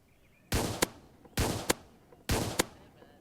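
Three sharp gunshots from a gun in the Roblox game A Dusty Trip, fired at a zombie while aiming for headshots, evenly spaced at close range, each a loud crack with a quick second pop and no talking.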